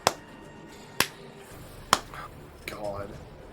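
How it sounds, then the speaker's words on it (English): Three slow, evenly spaced claps ring out sharply, about a second apart, during a tabletop role-playing session, followed by a brief murmur of voices. "you hear like in your minds just a slow clap"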